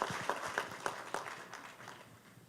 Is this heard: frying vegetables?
no